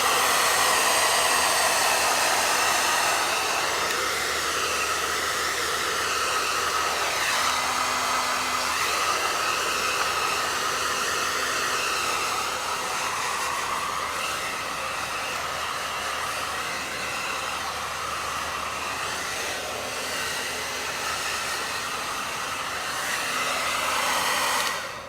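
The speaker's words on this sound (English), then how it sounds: "Use the blow dryer before I take the pictures." A blow dryer runs close and loud in a farm setting, a constant whirring rush that holds steady for the full stretch with small shifts in pitch.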